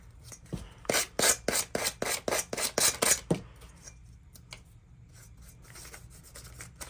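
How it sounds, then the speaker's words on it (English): Sandpaper rubbed back and forth to remove excess paper along scalloped edges, a quick rhythmic run of about a dozen close scratchy strokes, then fainter scattered scrapes. "I'm just gonna use sandpaper to do that"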